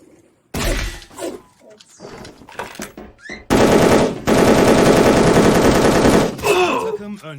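Shotgun blasts and heavy weapon fire in the online shooter Wolfteam, loud and close, with sharp bursts early on, then a long dense stretch of continuous firing and crashing effects.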